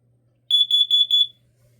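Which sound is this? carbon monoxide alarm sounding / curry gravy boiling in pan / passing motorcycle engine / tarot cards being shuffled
carbon monoxide alarm sounding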